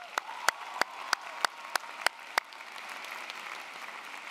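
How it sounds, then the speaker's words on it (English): At a university commencement ceremony, a series of sharp, evenly spaced claps rings out close by, then blends into softer, diffuse crowd applause that fades away. "Please, a round of applause for Professor Torres."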